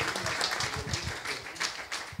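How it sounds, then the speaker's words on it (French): Applause from the audience at a debate, a dense patter of many hands that swells and fades, with some scattered sharper claps. "on peut quand même l'applaudir"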